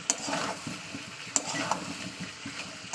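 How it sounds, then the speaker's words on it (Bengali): Meat and chopped papaya being sautéed dry in a pan, with a soft steady sizzle and scattered stirring scrapes and clinks from a spatula, fairly quiet and close, no talking. "পেঁপে দিয়ে একটু ভালো করে কষিয়ে নেবো"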